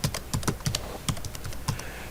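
Close keystrokes on a computer keyboard, a quick irregular run of light taps and clacks over two seconds with no talk.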